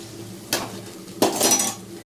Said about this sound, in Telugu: ఇదిగోండి అల్లం వెల్లుల్లి పేస్ట్ వేసానుగా, తిప్పుతున్నానండి.